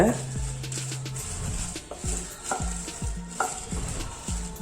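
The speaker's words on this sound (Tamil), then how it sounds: "ஃபர்ஸ்ட் மிளகாய் வத்தலை ரோஸ்ட் பண்ணிட்டு எடுத்துடலாம்." Dried red chillies are stirred and roasted in a pan for rasam powder, with repeated scraping strokes of a spatula and a soft sizzle under a voice.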